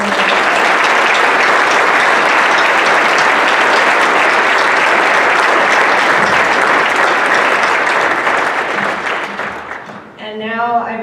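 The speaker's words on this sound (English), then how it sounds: "Can we give them all one more round of applause?" A school awards evening audience gives a long, loud round of applause for honored scholars and their teachers, steady dense clapping that fades out near the end.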